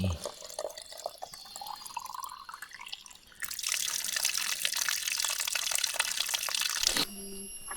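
Water pours from a tap at a mountain water point on Gunung Tahan as bottles are filled, a rising gurgle giving way to a steady, loud splashing rush that stops abruptly near the end, with forest ambience underneath.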